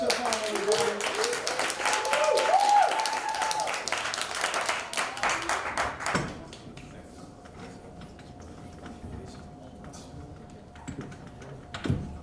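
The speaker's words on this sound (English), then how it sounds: "please come up to the stage and give a round of applause for Chevon, everybody" Applause from a poetry slam audience at the Nuyorican Poets Cafe, dense crackly clapping for about six seconds while a voice talks over it, then fading to quiet room tone with a few stray claps.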